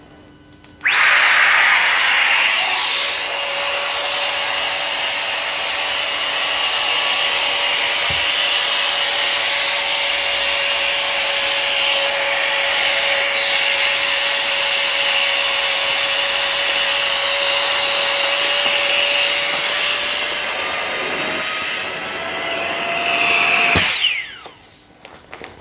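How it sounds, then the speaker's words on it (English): Flextail Gear Max Pump 2 Pro electric pump inflating a large sleeping mat, a loud steady high-pitched fan whine starting sharply and running continuously for over twenty seconds before cutting off. "I'll show you just how quickly this will pump up this massive mat"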